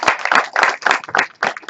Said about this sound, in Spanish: Un aplauso a nuestros niños.